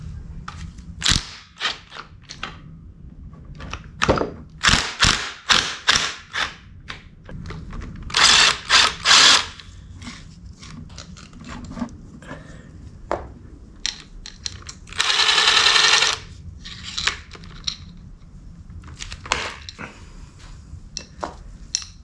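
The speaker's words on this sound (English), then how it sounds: "so to get this head off, we've got 4 bolts in the front, and then we've got 2 right here that we gotta get off." Hand tools working on the cylinder head bolts of a 1985 Yamaha, making rapid ratcheting clicks in irregular bursts, with a few sharper metallic clacks and a louder steady whirring burst midway, close and loud.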